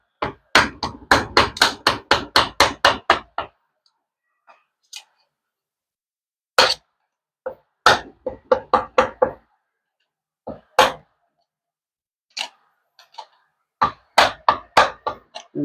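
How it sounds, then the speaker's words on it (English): Repeated hammer blows knocking loose a transmission filter on a 45RFE/545RFE automatic transmission, arriving in quick rhythmic bursts of sharp metallic strikes separated by pauses, loud and close. "I have to knock it off."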